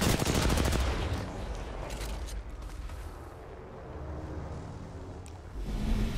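Gunfire in the Apex Legends battle royale game, with a dense burst of rapid shots at the start giving way to scattered weapon noise and mechanical clatter, then another loud flurry near the end.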